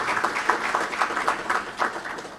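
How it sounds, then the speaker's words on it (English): Audience applause for the Governor at the launch of the Gambia's first capital market, a steady patter of many hands clapping at moderate volume with no voices. "Please, let's give another round of applause to the Honorable Governor."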